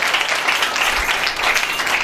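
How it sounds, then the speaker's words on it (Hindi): A crowd at a Christian school gathering in Pakistan applauds loudly, dense continuous clapping from many hands filling the whole moment. "मसीह खुदावन के लिए ज़ोरदार तालियां बजाइएगा"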